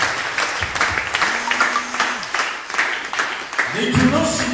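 A church congregation claps in scattered, uneven bursts under a pastor's loud voice, with spoken and shouted words running through the clapping.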